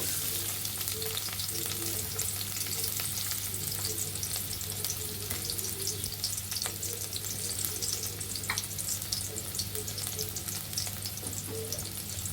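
Chopped onions fry in a little white oil in a pan, giving a steady, continuous sizzle that stays even throughout, with no talking.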